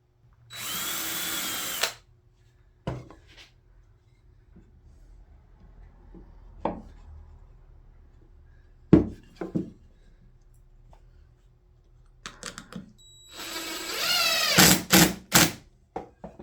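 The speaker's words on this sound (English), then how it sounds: "I'm going to pre-drill just a little into this stem." A power drill pre-drilling into a wooden stem for 2-inch screws: two short, loud whirring bursts, one at the start and one near the end, with scattered knocks and handling clatter in a quiet room between them.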